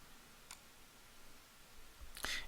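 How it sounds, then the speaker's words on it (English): Two faint, sharp clicks from computer adware about two seconds apart over a quiet background hiss, the second louder. "that clicking you're hearing in the background"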